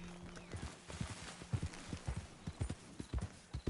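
Horse hooves clip-clop in a steady walking rhythm while riding in the video game Red Dead Redemption 2, close and moderately loud, with a snort or faint whinny near the start.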